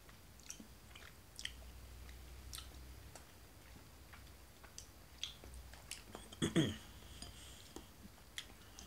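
Takao grapes from Yamagata being chewed close to the mic, with soft, irregular wet crunches and clicks over a quiet background and a few faint, breathy vocal sounds.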